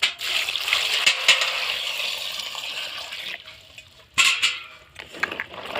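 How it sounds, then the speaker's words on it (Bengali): Jujube berries (kul) rubbed and rinsed by hand in water, with a steady wet swishing and splashing, a few louder sloshes and brief pauses, close up and with no talking. "এবারে জল দিয়ে পরিষ্কার করে ধুয়ে নেব।"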